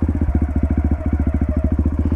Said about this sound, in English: Hear that the bike's kind of like almost purring a little bit different than what it's just idling like right now.